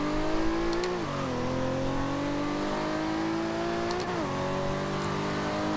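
1998 Toyota Supra in Forza Horizon 2 revving and launching, a loud sustained engine tone that climbs in pitch, drops at two gear shifts, then climbs again, heard alone and close.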